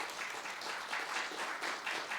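An audience at a Wednesday Buddhist dharma gathering applauds a university president. The clapping is faint and distant, a steady patter throughout.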